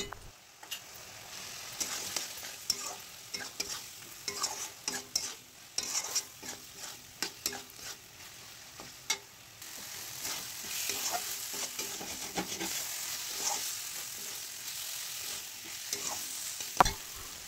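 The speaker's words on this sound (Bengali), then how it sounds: "এটাকে দিয়ে সামান্য জল দিয়ে ভালো করে কষিয়ে নিলাম।" A spiced mixture stir-fried with a little water for a vegetarian dish with moong dal and bori crackles and sizzles quietly, with irregular scraping strokes of a spoon against the pan, close and without talk.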